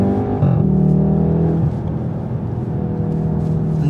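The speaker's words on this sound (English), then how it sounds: "The noises it makes between gears, and even the gearbox itself is just so smooth and seamless" Volkswagen Golf R Estate driving on the road, engine note rising then dropping at a gear change, followed by a steady lower hum from the cabin.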